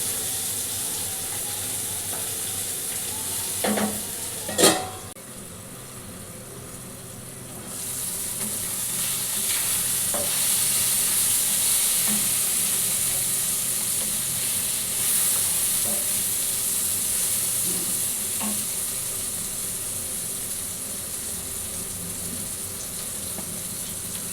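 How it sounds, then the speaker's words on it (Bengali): Onion, ginger and garlic fry steadily in a pan, a constant bright sizzle holding for the whole stretch, with a few sharp utensil clinks early on and no talking. "তো এখানে পেঁয়াজ আর আদা রসুন সব ভাজা হয়ে গেছে"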